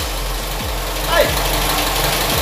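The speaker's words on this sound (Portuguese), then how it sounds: "o momento que ele vai ligar o motor na bancada" A 1984 Volkswagen Beetle 1600 engine runs on a test bench with a loud, steady idle and an even, rhythmic pulsing chug; a man gives a short excited shout over it.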